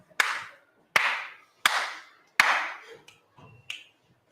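Four sharp, close hand claps fall at an even pace, each ringing briefly in a quiet room, then a few lighter, quicker snaps and taps follow at the end, with no talk over them.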